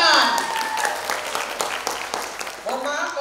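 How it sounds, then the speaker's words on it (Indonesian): A crowd at a literature festival in Sumatra claps in a short burst of applause, mixed with cheers and voices talking over it, fairly loud and close. "Oke, tepuk tangan."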